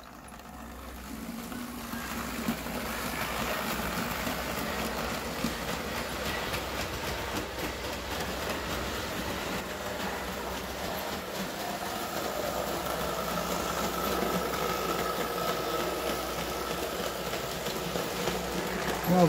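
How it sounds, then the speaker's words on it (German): A Märklin model locomotive, a class 216 diesel, running with a steady rumbling engine sound and continuous broadband mechanical noise, growing slightly louder toward the end, with no talking. "Hier verlässt jetzt die 216 den Wetzlarer Bahnhof."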